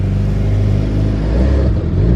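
A tuned E85 Nissan 350Z with a VQ engine idles close by, a deep, loud, steady rumble with a slightly lumpy pulse and a small swell near the end, no talking.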